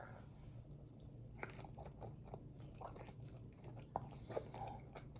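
Biting and chewing a thin, well-done New York strip steak during a surf and turf meal, soft close crunches and moist mouth sounds in a quiet room, with a few sharper bites.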